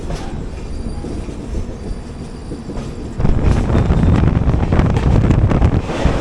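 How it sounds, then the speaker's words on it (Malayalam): A passenger train hauled by a WDP4 diesel locomotive rumbles past close by, its broadband roar swelling sharply midway and staying loud with wheel noise and wind buffeting the microphone, no voices. "ഏതോ ഒരു WDP4 ഹൗളിൻ്റെ ട്രെയിനായിരുന്നു"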